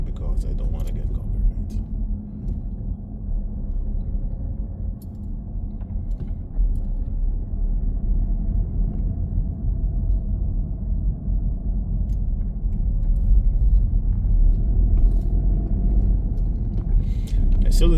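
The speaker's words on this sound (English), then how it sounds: "My back tire is kind of cupped, so it's not round anymore. It's actually making more noise, more and more" Steady, loud low rumble of road and tire noise throughout a car drive from Amersfoort through Soest to Baarn in the Netherlands, with a cupped, worn rear tire that is no longer round. The droning is continuous, with no talk over it.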